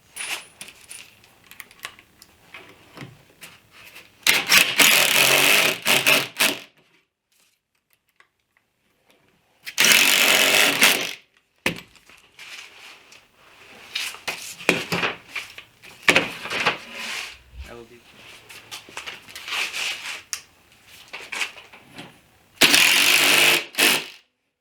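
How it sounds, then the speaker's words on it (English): Pocket hole screws driven with a power driver to assemble a wooden face frame for a storage bench, heard as four loud bursts of driving between quieter handling clatter and knocks. "So I'm going to drive some pocket hole screws and start assembling this face frame."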